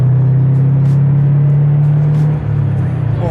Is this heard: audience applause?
no